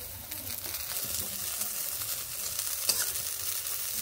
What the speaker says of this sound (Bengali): এই বেগুনগুলোও আমার ভাজা হয়ে গেছে। এগুলোকে তুলে নিচ্ছি।